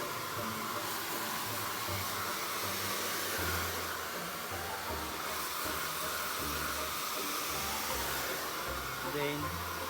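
A hair blower drying freshly rebonded hair roars in a loud, steady, continuous whoosh close to the mic, with slight shifts in pitch as it moves and no talking.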